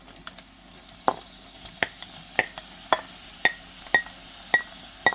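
Tomatoes added to a pan of cooked onions sizzle softly beneath a steady run of sharp spoon scrapes and taps, about one every half second.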